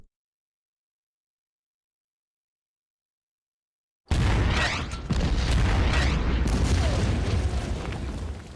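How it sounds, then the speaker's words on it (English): Artillery barrage in the strategy video game Order of Battle: silence, then a sudden loud boom followed by a sustained heavy rumble of explosions lasting several seconds. "Let's go ahead and hit the artillery."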